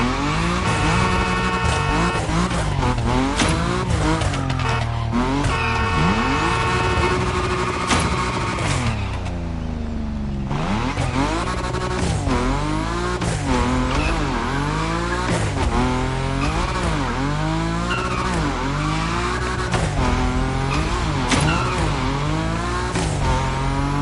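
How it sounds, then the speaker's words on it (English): A Nissan Nismo drifts at high speed in The Crew Motorfest racing game, its engine revving and shifting continuously while tires squeal through long slides, loud and up close, with a short dip in the middle and no talking. "Your Nismo is powerful enough to slide along on its own when you're at high speed"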